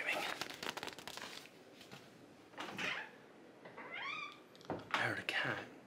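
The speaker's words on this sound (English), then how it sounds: "I heard a cat." Domestic cat meowing indoors, a short rising-falling meow standing out between louder whispered, close-up speech and rustling, moderately faint.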